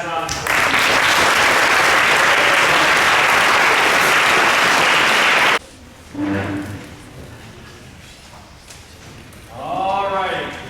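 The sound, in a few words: audience applause at football banquet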